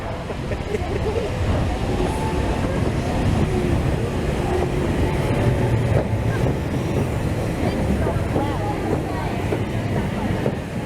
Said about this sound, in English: this is just a different steam train coming into platform 2.